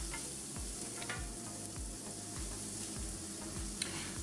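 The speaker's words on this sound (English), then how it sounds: "And I've got a pan in the background." A pan heating on the stove ahead of cooking gnocchi gives off a steady, even sizzle with soft stirring scrapes, close by and with no voices.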